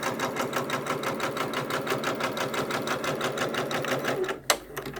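A Janome MB4 embroidery sewing machine stitches an in-the-hoop quilt with appliqué, producing a steady, fast, rhythmic mechanical chatter close by that stops abruptly near the end.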